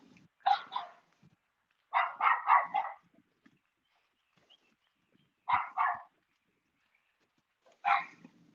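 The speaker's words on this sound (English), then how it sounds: "That's the neighbor's dog talking about me." A neighbor's dog barks at some distance in separate bursts: one bark, then a rapid string of four, then two, then a single bark, with quiet gaps between them.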